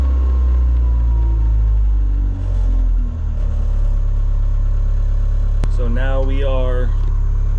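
A Hitachi EX100 excavator engine idles with a steady low rumble inside the cab, a faint rattle from behind, while someone talks over it near the end.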